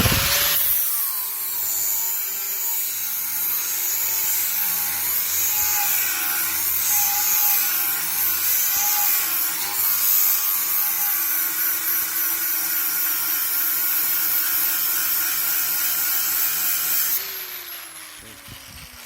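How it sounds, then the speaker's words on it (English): A hand grinder cuts into a new piece of metal stock at a steady, moderate load, giving a loud, continuous whining grind with slight wavering as it sweeps back and forth, then winding down near the end. "We're going to go ahead and we're going to grind on this with a load rate that I feel is appropriate for general grinding."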